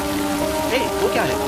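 Heavy rain hisses in a dense, steady wash, loud and close, while a voice speaks briefly over it.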